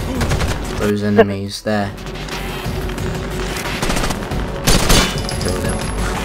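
Enemy gunfire in the video game Rainbow Six Vegas 2 crackles in repeated bursts of rapid automatic shots mixed with game effects, while a player speaks briefly over the shooting.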